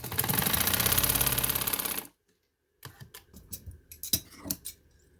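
A sewing machine runs in a fast, steady burst for about two seconds while stitching lace onto a neckline, then stops, followed by scattered clicks and handling of fabric.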